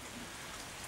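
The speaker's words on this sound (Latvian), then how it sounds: "Lietus bija, vēl tagad ir." Steady rain hiss, a soft even wash of drops with no pauses, close by and moderately quiet.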